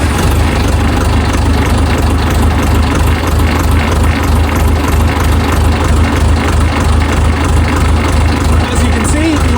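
A 2025 Trident 35HP canopy tractor engine runs at a steady idle, with a loud, close, low rumble and constant vibration throughout.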